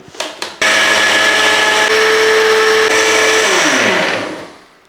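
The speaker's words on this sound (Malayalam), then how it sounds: "ഇനി ഇത് നല്ലപോലെ ഒന്ന് അടിച്ചെടുക്കാം" A blender whirs loudly and steadily, mixing a chocolate milkshake with cocoa powder and sugar, starting after a few brief clicks and then winding down to a stop near the end.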